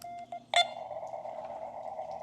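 Short electronic tones beep at the start from a zBitx radio transceiver calling CQ, then a steady tone with a hissy, noisy background holds on continuously.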